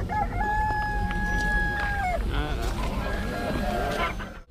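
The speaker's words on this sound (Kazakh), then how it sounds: "Мына бір қораз ерекше, басында қалпағы бар." A rooster at a spring poultry market crows in a long, drawn-out call close by. Busy market chatter and other birds fill the background.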